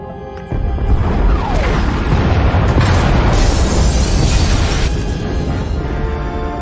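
A loud explosion rips through the pod bays in a sci-fi video game, a sudden heavy blast followed by a sustained roar of rumbling destruction and debris that holds steady for several seconds before slowly easing.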